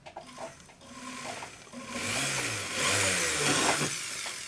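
A small drill bit bores through a metal ring shank, the motor whining up and down in pitch as it spins up, slows and bites, close and fairly loud.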